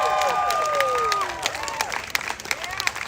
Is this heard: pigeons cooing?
no